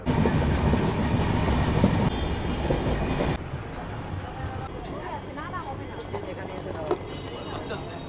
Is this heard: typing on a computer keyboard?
no